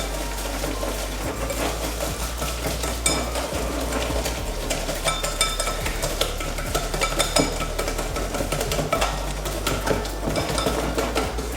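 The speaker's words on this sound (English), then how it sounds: "And let's whisk those together." Eggs and sugar are whisked together in a bowl, a fast steady clatter of metal tines against the sides, close and continuous with no talking.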